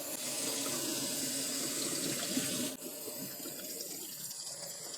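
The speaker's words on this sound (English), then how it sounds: "and then give them another rinse under cold water" Steady rush of cold running water from a tap splashing onto lentils in a sieve, which cuts off abruptly partway through, leaving quieter dripping and background noise.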